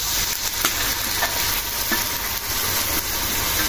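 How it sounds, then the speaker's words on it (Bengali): Coconut water poured onto browned frying onions in a hot pan, producing a loud, steady hiss and sizzle that continues throughout with faint stirring clicks. "পেঁয়াজটা ভাজা হয়ে গেছে বাদামি কালার হয়ে গেছে এই যে এখন দিয়ে দিব এই যে 2টা নারকেলের পানি"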